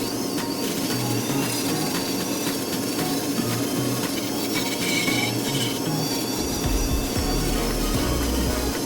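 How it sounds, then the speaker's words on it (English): Saber-tooth carbide burr grinding into wood while carving a crow, a steady close abrasive whine and rasp running continuously with no pauses. "These saber-tooth burrs really cut the wood well."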